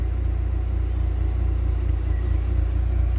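A Rover K-Series car engine idles steadily with a low, even rumble and a smooth, regular pulse, close by and unchanging throughout.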